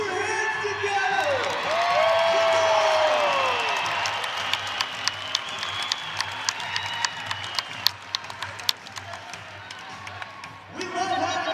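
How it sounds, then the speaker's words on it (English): Crowd at a college wrestling meet applauding and cheering for home wrestlers, a dense sustained roar of clapping with whoops, a voice rising briefly above it, then scattered individual claps as it thins out. "put your hands together"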